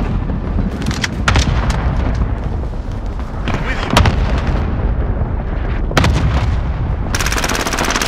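A cluster strike rains explosions across a Call of Duty Modern Warfare team deathmatch, sharp blasts and booms mixed with steady gunfire in a loud, chaotic battle, with voices calling out beneath the noise.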